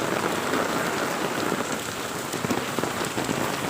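Heavy rain pours down during a typhoon with strong winds, a dense, loud, continuous hiss of drops pattering on surfaces nearby, with no speech.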